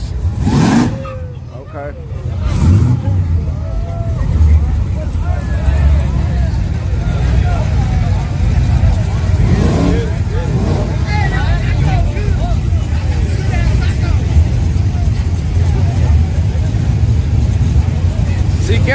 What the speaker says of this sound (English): here come that LSA truck on nitrous